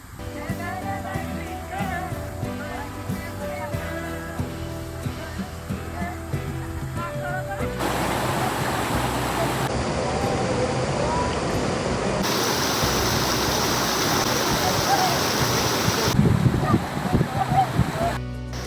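Dugarwadi waterfall near Trimbakeshwar sends up a loud, steady broadband roar of falling water, close by and filling the second half, after a stretch where talk and other sound dominate.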